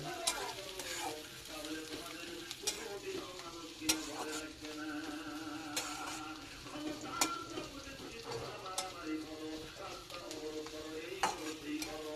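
Ground raw mustard paste with green chillies and onion frying in hot oil, a steady sizzle with repeated stirring scrapes and clinks of a utensil against the pan throughout.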